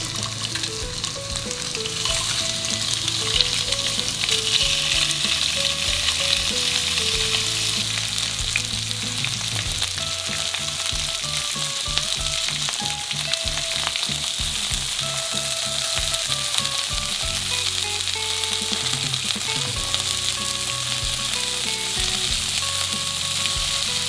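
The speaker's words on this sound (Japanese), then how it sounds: "ではマグロを焼いていきます" Tuna skewers sizzle loudly in a pan with a constant dense crackle that holds for the whole stretch, while music plays underneath.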